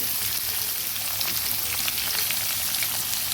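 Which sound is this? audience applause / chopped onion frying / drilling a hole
chopped onion frying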